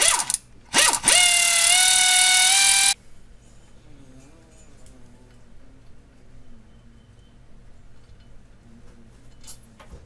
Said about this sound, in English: I'm going to cheat a little bit and use my air ratchet